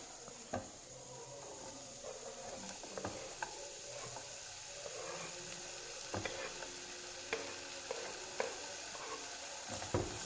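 Potatoes frying in oil for a Kerala-style stir fry, with a faint, even sizzle and occasional sharp clicks of a spoon scraping and stirring against the pan.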